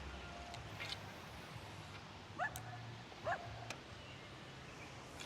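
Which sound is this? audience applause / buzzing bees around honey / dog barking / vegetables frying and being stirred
dog barking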